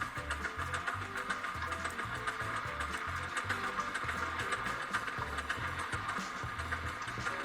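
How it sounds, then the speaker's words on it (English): A vehicle engine runs at high revs in the building game Scrap Mechanic, a steady, fast mechanical chug with a rapid, even pulse throughout and no voices. "Let's just crank the engine up real high as we can, and see how this works out."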